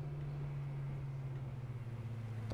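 Low steady engine drone in the video game Arma, a constant hum without a break.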